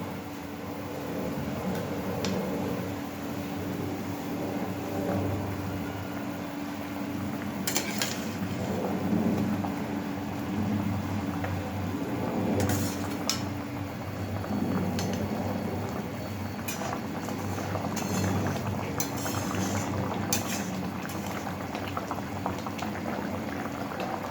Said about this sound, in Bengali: খুব ভালোভাবে মাছের ঝোলটা ফুটে উঠেছে